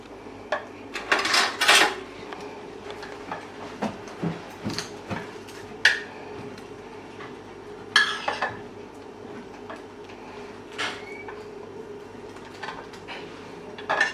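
A spoon scrapes and clinks against a dish while chicken is mixed with Samyang spicy sauce, giving a run of close, irregular metallic taps and scrapes separated by short quiet gaps.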